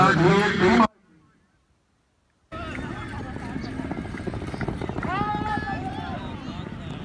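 Horses warming up before a tent pegging race, with rhythmic hoofbeats thudding under loud talk and bursts of voices, cut by a brief silent gap near the start.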